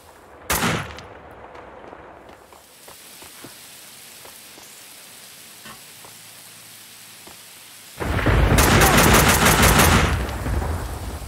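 Gunfire in Max Payne 2 inside a collapsing, exploding building: one sharp burst early, then quiet rumbling, then a long, loud, rapid stream of automatic fire at the end.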